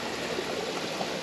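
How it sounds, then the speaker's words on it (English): A spring creek flows steadily, a continuous rushing, bubbling wash of water at moderate distance with no voices. "I came back to this creek that I've been to many times before"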